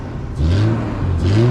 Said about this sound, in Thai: ถ้าเปลี่ยนท่อมาเสียงประมาณนี้เลยนะ